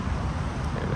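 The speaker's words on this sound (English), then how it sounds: "we have like 25-mile-an-hour winds" Strong wind on a Bahamian island roars as dense, buffeting noise that batters the microphone continuously throughout a brief stretch, with no voices.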